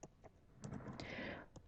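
Keys tapped on a computer keyboard while entering an invoice title in accounting software, a quiet run of close, irregular clicks with a busier burst in the middle, no voices.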